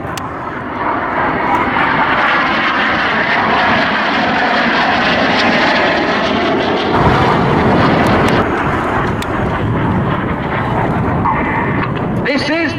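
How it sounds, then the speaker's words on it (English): Display aircraft crossing overhead at an airshow, a loud, continuous engine roar with a rushing, swelling wash as they pass close, plus wind buffeting the microphone and a commentator's voice under the noise. "They're going to cross 3 times"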